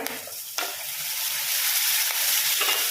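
Chopped tomatoes hit a hot pan of brinjal and chana dal curry with curry leaves, giving a steady, close hissing sizzle with a couple of sharp stirring clinks.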